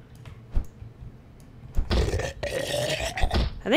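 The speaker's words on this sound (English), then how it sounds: "I think he just like burped at us." A zombie character in the video game Project Zomboid lets out a rough, throaty burp-like grunt amid game noise, with scraping and shuffling sounds around it and a louder rasp at the end.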